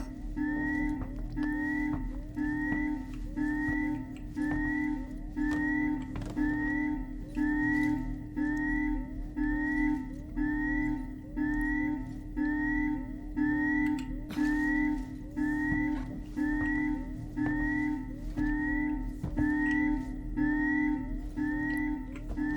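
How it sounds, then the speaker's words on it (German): Steady cheerful whistling from a character in the video game Alien Isolation, a repeating looped melody over a constant low ambient hum, with no talk. "So, da pfeift er gut munter."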